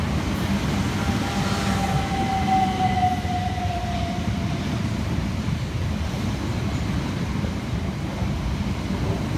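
Two Southern Class 377 electric trains arriving at Carshalton station, a loud continuous low rumble of wheels and running gear with a faint rising whine from the electric traction.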